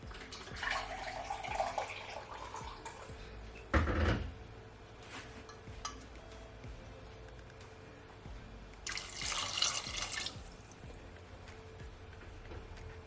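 Water is poured into a bowl for carrot punch in two short splashing bursts, close by, separated by quiet stretches of faint background noise.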